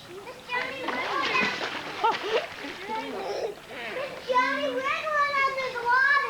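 Children shriek and chatter excitedly while playing in water, with occasional splashes faint beneath their high, lively voices.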